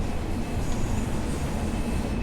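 Class 142 Pacer diesel railbus running on the Cardiff City network in Train Sim World 6, a steady rumbling engine drone with rolling rail noise, continuous and close, no talking.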